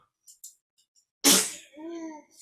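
A single sharp human sneeze bursts out loudly in an otherwise quiet room, with a short voiced tail after it and faint brief noises before.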